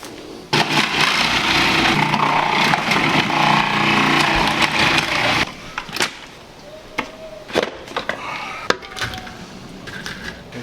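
Cabbage and onions crushed by hand with salt in a kitchen on rural land, a dense grinding, crunching roar for about five seconds, then scattered softer squelches and knocks, close and fairly loud.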